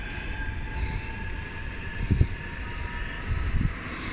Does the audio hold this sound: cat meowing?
no